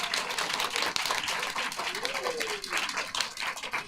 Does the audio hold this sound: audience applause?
yes